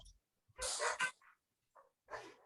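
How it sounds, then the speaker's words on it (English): A dog barks outside a window in short bursts, a couple of loud barks followed by fainter ones after a pause, with no talking. "whose dog is that? not mine. No, that's outside my window."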